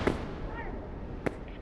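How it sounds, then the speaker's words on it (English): A firework goes off in the VR video game Animal Company, with sharp crackling bursts at the start and again near the end over a noisy background, while someone talks. "Oh, it's a firework!"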